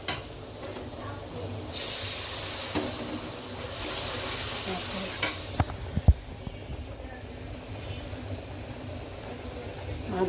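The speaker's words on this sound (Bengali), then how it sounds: "আমি এখন পেঁয়াজ ভাজবো।" Onions fry in hot mustard oil, with loud hissing bursts of steam and spatter in the first half, then quieter sizzling with a few sharp clicks and knocks.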